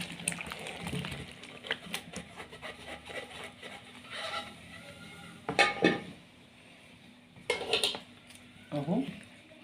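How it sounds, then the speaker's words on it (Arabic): Potato pieces and chicken are stirred and scraped around a baking tray with soft rubbing and clinking, ending in a few louder scrapes, under quiet background noise. "هبدأ اقلبها في الصينيه بقى"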